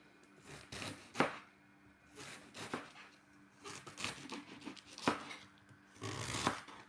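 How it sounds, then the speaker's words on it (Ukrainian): A knife slicing through Napa cabbage after its stem end is trimmed off, heard as a handful of quiet, crisp cuts spaced irregularly with short pauses between them. "Наступний шар буде у нас пекінська капуста. Одрізаємо хвостик і також нарізаємо."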